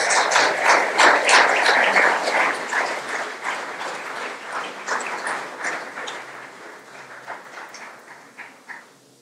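An audience at an engineering and sciences alumni event applauds after a talk, a dense, fairly close patter of many hands that starts loud and slowly thins and fades over about nine seconds.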